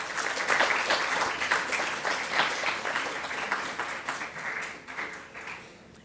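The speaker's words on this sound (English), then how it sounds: "Please give them a round of applause." An audience at a genocide commemoration ceremony in Rwanda applauds the police band, a full round of clapping that peaks early then gradually thins and fades out.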